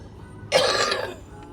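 A man gives a single harsh cough, loud and close, during an Islamic prayer recitation, fading quickly into quiet.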